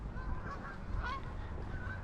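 Geese honk on the Norfolk Broads in December, a few distinct calls at moderate distance over a quiet outdoor background.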